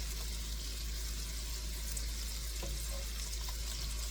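Meatballs frying in a pan for a spaghetti and meatballs supper, a steady close sizzle with crackling spits throughout, no talk.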